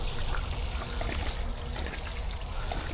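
Pool fountains pump water in a continuous splashing, trickling rush, steady and fairly close, with no voices over it.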